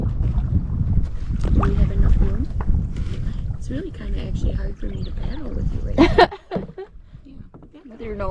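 Paddling a boat on open water, with splashing strokes and wind buffeting the microphone while people talk throughout.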